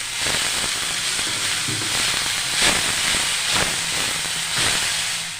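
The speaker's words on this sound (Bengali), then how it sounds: "এবার ভালো করে একটু ভেজে নেব।" Cabbage and mixed vegetables with salt frying in a pan, a loud steady hiss and sizzle close by with a few brief surges of crackle and no talking.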